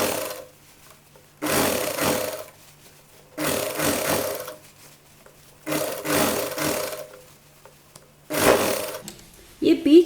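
A sewing machine stitches a child's Patiala dress in four or five short, separate bursts with quiet gaps between, each run a few seconds long and close by.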